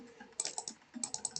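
Rapid clicking of buttons while playing the game Airplane Story, a quick irregular burst of sharp, light taps close to the microphone, quiet and without speech.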